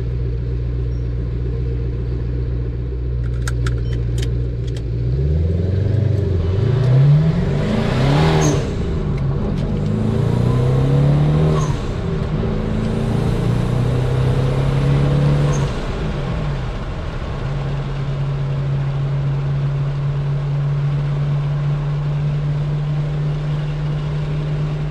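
A Maserati 3200 GT heard from inside on the road drones steadily, then revs hard through a few rising sweeps toward the red line before settling back into a loud, even cruising hum.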